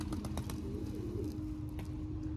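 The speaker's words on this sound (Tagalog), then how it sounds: "mga ibon natin lang" Pigeons coo softly and repeatedly over a low rumbling background, with a few faint clicks and flutters.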